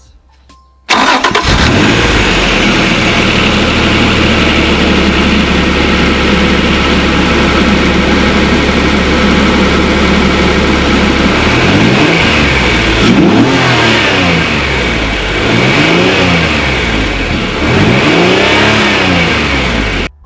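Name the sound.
car engine starting and revving, intake induction noise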